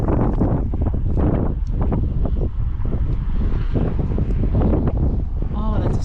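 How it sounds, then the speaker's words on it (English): Strong gusty wind buffeting the microphone, rumbling low and constant, while a person talks over it. "Oh, it's windy"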